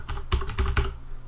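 Quick keystrokes clatter on a computer keyboard, a short close burst of about four taps.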